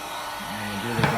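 Heat gun blowing a steady, fairly loud hiss onto a Babolat racquet's plastic bumper during a grommet replacement, with a low hum underneath and a brief bump near the end.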